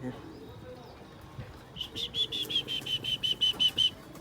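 Pigeons at a home loft setup: after a quiet, murmuring start, a quick run of about a dozen high, sharp chirps pulses close by in an even rhythm.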